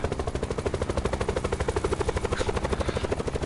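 Helicopter flying in Call of Duty Black Ops 4 Blackout, with rotor blades chopping in a fast even rhythm, loud and close, held steady throughout.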